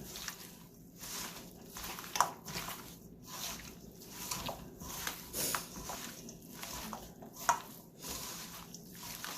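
Curry goat being mixed by hand in a metal bowl, giving soft, wet squishing and sloppy patter sounds in an irregular rhythm, close and fairly quiet, with no talking.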